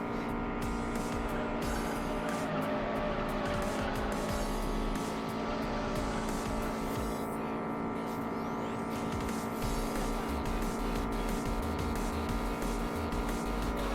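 A race car in the street-racing game Juiced drives hard around a circuit with tight corners, engine droning steadily at high revs for the whole stretch, with tyre noise layered over it and no pauses.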